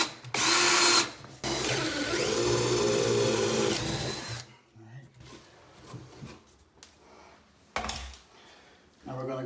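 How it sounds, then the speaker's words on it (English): A power drill bores a hole through wooden wall top plates during a bedroom renovation, whining loudly in two bursts, with the motor pitch rising and straining, then short clunks and handling noises as someone speaks. "I'm just going to drill a hole back in this corner to avoid any nails."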